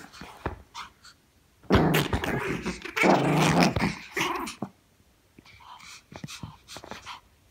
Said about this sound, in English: I know this is how dogs play with each other